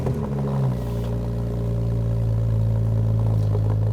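A Porsche 997.1 911 Turbo engine runs with a deep, loud, steady rumble close by. It settles from an initial higher flare into a smooth idle, and no one speaks.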